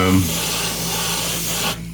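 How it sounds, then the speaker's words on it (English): A continuous hiss of spray paint aimed at a figure's crown, one short steady burst lasting under two seconds before it cuts off abruptly. "I'm going to spray this on, I'll let it dry a little while"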